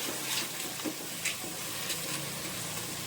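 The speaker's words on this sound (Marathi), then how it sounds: "मसाला आता आपण चांगला हा तेल सुटेपर्यंत भाजून घेऊया" Spiced masala with red chilli powder and meat masala roasts in oil for a village-style mutton curry, giving a soft, continuous sizzle with a few faint stirring clicks and no talk.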